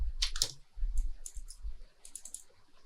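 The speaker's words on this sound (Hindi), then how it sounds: "मैं कीबोर्ड से डिलीट कर रही हूँ इसको।" Computer keyboard keys pressed to delete, a few sharp clicks near the start followed by lighter quick taps, close and fairly clear with no voices.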